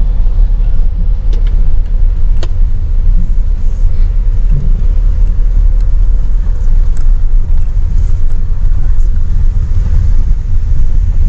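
A Tata Safari SUV in off-road mode rolls downhill on a mountain road trip, its engine and road rumble a steady low drone throughout, close and loud, with no talking.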